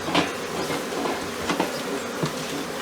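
Africanized honey bees buzz in a dense, continuous hum during a swarm rescue, close and fairly loud, with occasional brief clicks and knocks over the drone.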